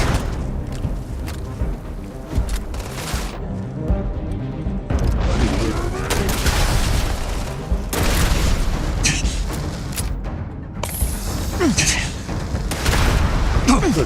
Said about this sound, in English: Good God, what is he shooting me with?